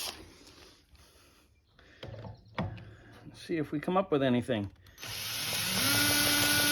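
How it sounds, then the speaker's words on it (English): A power drill spins the engine of a Polaris Power Pole snowblower with a 3/4 hp Ohlsson & Rice two-stroke to test for spark, a loud, steady whirring that rises near the end after someone speaks briefly. "I'm just gonna spin it with the drill."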